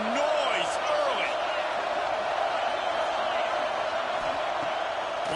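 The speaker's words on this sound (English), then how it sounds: "This crowd bringing the energy and noise early." Stadium crowd noise in an American football video game, a dense, steady roar of cheering fans with scattered whoops, continuous under a commentator's voice.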